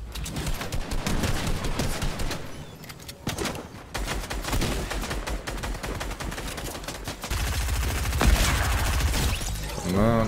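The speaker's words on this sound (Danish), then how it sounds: "Et skud." Rapid bursts of video game gunfire crackle almost continuously, with dense automatic fire and a few heavier blasts throughout.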